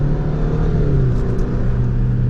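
A 2023 GMC Canyon crew cab pickup's engine pulls under light, less-than-quarter throttle, a steady loud hum with a rising tone heard from inside the cab.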